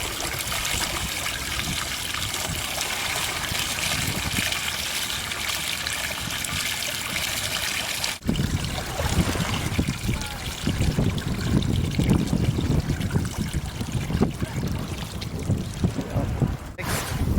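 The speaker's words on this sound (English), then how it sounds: "We put the board upright in the opposite direction to make sure that all water is completely out of the hull of the board." Water draining from the hull of a JetSurf board, a steady trickle and splash that swells after a brief bump midway and runs on continuously, with faint outdoor noise under it.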